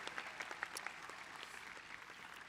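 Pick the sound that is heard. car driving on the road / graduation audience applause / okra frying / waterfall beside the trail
graduation audience applause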